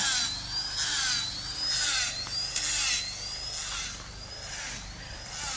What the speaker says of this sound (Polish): pani mi wytłumaczyła, po co robi wiertarką, wiertłem dziury, po to, żeby wsadzić cebulki do ziemi